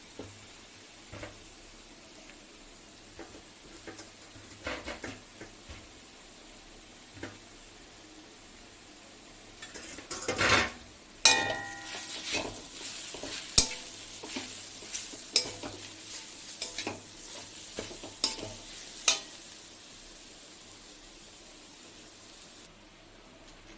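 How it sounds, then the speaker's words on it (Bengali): Peas and mashed boiled potato frying in a pan, a low steady sizzle that grows busier midway with repeated scraping, clanks and stirring knocks, close and without talk. "এবার ম্যাশ করা এই যে আলু সিদ্ধটা দিয়ে দেবো"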